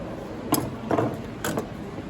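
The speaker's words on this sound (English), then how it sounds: "then we can cut the rest with our tenon saw" A tenon saw cuts through a wooden skirting board during an internal scribe, giving three short rasping strokes over a low steady background hum, close up, with no voices.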